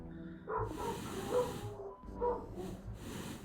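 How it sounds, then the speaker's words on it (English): Excited dogs barking and huffing close by, a few short hoarse barks and breathy yips in uneven bursts over low background hum. "Okay, dogs are excited."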